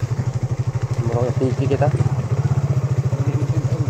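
A motorcycle engine runs steadily up close with a rapid, even low thumping pulse throughout, while someone speaks over it.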